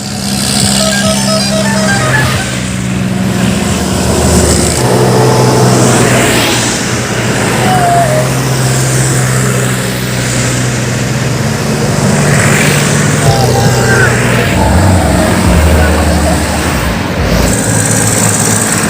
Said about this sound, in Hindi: इन्होंने आज ट्रैक्टर रैली निकाली है